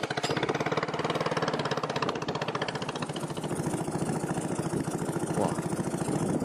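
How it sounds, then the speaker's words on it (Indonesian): A boat engine starts and settles into a steady, close, loud idle, with a fast rhythmic chugging throughout and no talk over it. "Nah Bapak Ambo lagi menyalakan menyalakan mesin nih."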